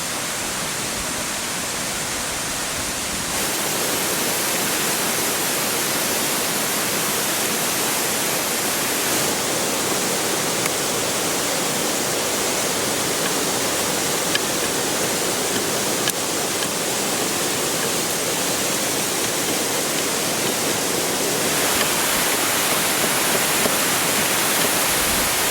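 A waterfall beside a canoe camping spot pours out a steady, loud, unbroken hiss of rushing water, constant throughout with no voices over it.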